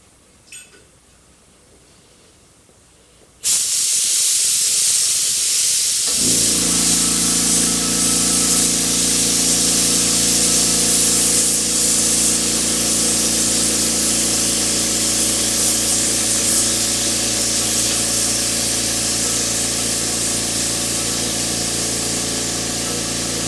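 A spray gun lays a base coat on the hull of a 1/350 Polar Lights Star Trek TOS Enterprise model. After a few quiet seconds a loud, steady hiss starts and holds, joined shortly after by a low compressor hum.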